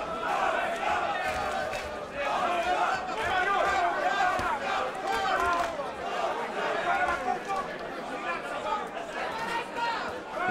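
Boxing arena crowd cheering and roaring steadily throughout a heavyweight fight, a dense continuous mass of voices at moderate distance with shouts rising and falling.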